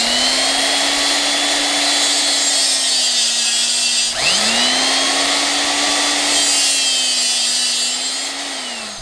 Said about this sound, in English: Justin's getting started right here with the SDS Max, and he's drilling into the existing concrete that we have